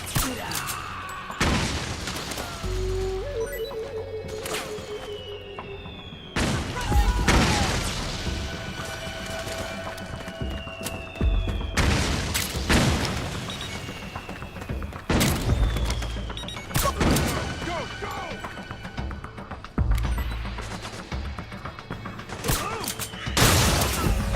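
Repeated bursts of gunfire and heavy booms in Metal Gear Solid 4 battle, loud and close, with explosive impacts and clattering mechanical noise throughout.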